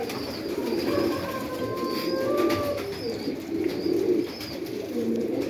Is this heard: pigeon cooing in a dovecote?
yes